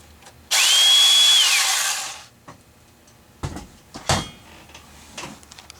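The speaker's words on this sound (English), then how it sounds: "One Makita compatible, Makita battery compatible, stout tubing cutter." A Stout cordless tubing cutter on a Makita battery whirs loudly with a high motor whine for under two seconds, then winds down, followed by a few sharp clunks and handling knocks.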